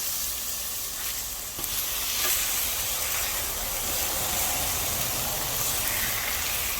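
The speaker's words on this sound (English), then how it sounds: "Use my last splash of water. And that steam will take care of what I want to take care of." A hot pan of lemon garlic chicken sizzles loudly, then a splash of water sets off a sharper burst of hissing steam that keeps crackling steadily afterward.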